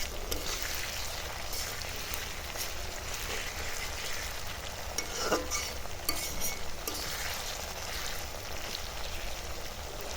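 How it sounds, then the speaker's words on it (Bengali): Potatoes fry in a pan with ginger and garlic, giving a continuous, even sizzle like light rain, with a slightly louder crackle midway and no one talking. "এখন আলু ভাজা হয়ে গেছে, আর একটু ভাজবো।"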